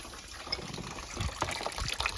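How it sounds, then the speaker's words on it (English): A garden hose flushes gunk out of a car radiator, giving a steady rushing, splashing stream of water with gurgling bursts over a brief stretch. "get the hose out and flush it through and it'll come out, then it'll clean the radiator"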